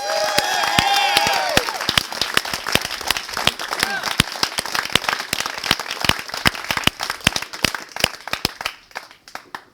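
An audience claps for a single graduate of the Elevate program, Rochelle, starting right after a voice and continuing as scattered, close, uneven applause that thins out toward the end.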